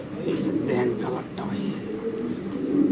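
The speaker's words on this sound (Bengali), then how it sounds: "দর্শক আমরা একটু কবুতরা ধরে দেখাচ্ছি ইনশাল্লাহ আপনাদের" Several pigeons coo in a loft at a pigeon seller's, the low rolling calls overlapping steadily with faint background voices and handling noise.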